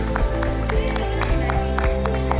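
Audience clapping at a school's annual prize distribution: a steady run of sharp, evenly spaced claps over a sustained tonal background hum, moderately loud and continuous through the whole stretch.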